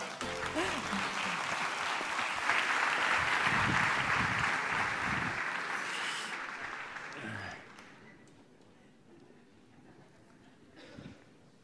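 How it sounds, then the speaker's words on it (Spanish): An audience at a technology talk claps to welcome the speaker, a steady round of applause lasting about six seconds that then fades away, leaving near-silence with a faint bump at the end. "Vamos a darle la bienvenida. Un aplauso."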